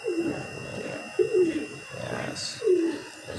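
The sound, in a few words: pet birds cooing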